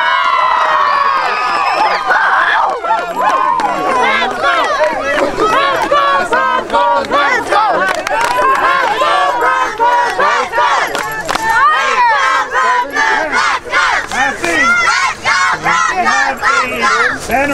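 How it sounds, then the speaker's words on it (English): A crowd at a youth 9U football championship game cheers and shouts loudly for the team, with many children's voices yelling and whooping in a continuous, excited roar. "One more time, round of applause."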